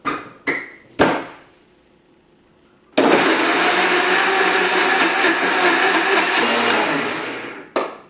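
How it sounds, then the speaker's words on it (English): A high-powered blender whirs loudly and steadily for about five seconds, churning a carob and chia seed breakfast smoothie, after a few short knocks and bumps before it starts and a clunk as it stops. "It's got a lot of horsepower. It will blend up."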